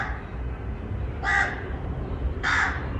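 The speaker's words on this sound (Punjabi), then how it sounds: "ਕਾਂ ਵਿਚਾਰੇ ਕਾਂ ਚਿੜੀਆਂ ਵੀ ਲੁਕ ਲੁਕ ਕੇ ਬੈਠੇ ਆ ਦੇਖੋ ਦਰਖਤਾਂ ਤੇ" Two harsh crow caws ring out about a second apart, moderately close, from village trees on a hot sunny day, over a low steady outdoor rumble.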